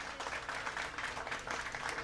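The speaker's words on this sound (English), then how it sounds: "Another round of applause" Fairly quiet, steady round of audience applause during a sports coaches' show with a head coach, a continuous wash of clapping for about two seconds and no talking heard.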